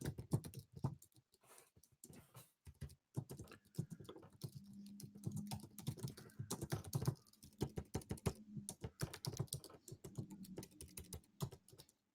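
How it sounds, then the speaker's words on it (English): Fingers type steadily on a computer keyboard close by, a dense patter of quick key clicks in bursts with brief pauses, alone in a quiet room. "Let me type in the greeting as well."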